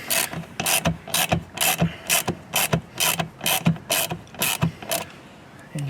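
Hand ratchet with a 10mm socket driving 6.3 by 20 screws during a parts install on a 2023-2024 Volkswagen Golf R, about eleven quick, evenly spaced clicking bursts, close and loud with no talking.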